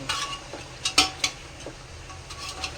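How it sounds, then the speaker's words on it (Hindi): A spoon scrapes and clinks against a pot of nihari being stirred, a few sharp knocks over a faint low background hiss, with no talking. "अब इसको थोड़ा सा चला लेते हैं।"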